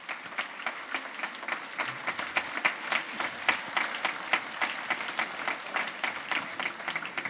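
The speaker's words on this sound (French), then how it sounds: "Je pense que ça mérite une chaude main d'applaudissements." Sustained applause from a dining audience honoring chef Christophe Busson and his kitchen brigade after a meal, steady and dense with rhythmic clapping throughout, no talk over it.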